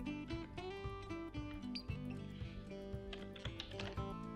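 Computer keyboard keys clatter in quick, uneven bursts as code for an embedded-systems prototype is typed, the steady clicking set against sustained musical tones throughout.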